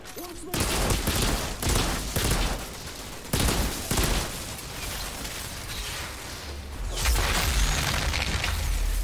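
Dense gunfire in the video game Outriders, loud repeated cracks and booming bursts layered over a thick rumbling background of combat noise, with a voice occasionally audible underneath.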